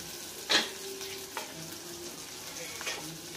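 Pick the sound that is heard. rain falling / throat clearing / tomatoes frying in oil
tomatoes frying in oil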